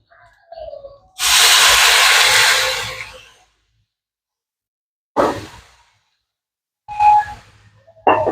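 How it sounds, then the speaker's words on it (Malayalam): Boiling hot water poured out in one steady rushing hiss lasting about two seconds, close and loud, followed by a few short clattering bursts after a pause. "തിളച്ച വെള്ളം കേട്ടോ"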